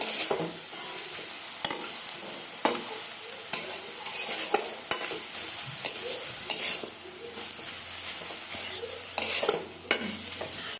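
Bathua greens fry in a pan as a utensil stirs and scrapes through them, with a steady close sizzle and regular clinks of metal against the pan.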